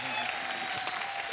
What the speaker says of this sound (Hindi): जोरदार तालियां बजाओ भी।